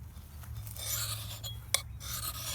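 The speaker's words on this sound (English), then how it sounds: "You want a nice gray file with nice sharp teeth on it." Hand file rasping along the steel blade of a Boy Scout axe at about a 30-degree angle, quiet scraping strokes repeating over a steady low hum, with one sharper click near the end.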